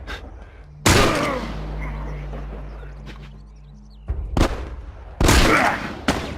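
Sniper rifle gunfire in The Last of Us, heard as a few sharp, loud broadband blasts separated by pauses, with a sustained low rumble between the first and second shots.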